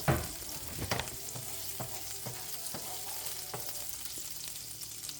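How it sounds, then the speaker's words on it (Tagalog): Garlic sautéing in hot oil in a pan, a steady close sizzle with a burst at the start and a run of quick utensil taps and stirs that fade toward the end. "Maglagay tayo ng mantika sa mainit na kawali at unahin natin pag-isa yung bawang ng mga ilang segundo."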